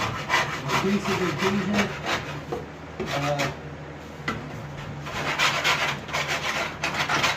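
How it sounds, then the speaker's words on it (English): A wood rasp files down a foam coyote mount form to make the head fit, a steady rough scraping in repeated strokes, close and fairly loud, with a brief spoken phrase at one point. "So I'm going to have to rasp it down to get it to fit."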